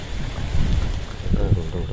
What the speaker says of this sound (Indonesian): Angin mulai kenceng